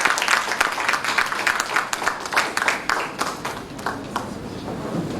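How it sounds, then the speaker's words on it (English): An audience at a primary schools' public speaking competition claps steadily throughout, a dense crackle of many hands applauding at moderate loudness, fading slightly toward the end. "can you kindly give Miss Pause your round of applause, please?"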